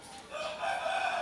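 A rooster, an Indian game breed, crows once, loud and close, its call rising and holding steady for about a second.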